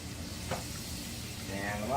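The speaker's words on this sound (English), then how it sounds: "Get your butter melting." Butter melting in a copper pan: a soft, low sizzle that holds steady and grows slightly louder toward the end, with a faint scrape or two, no voices.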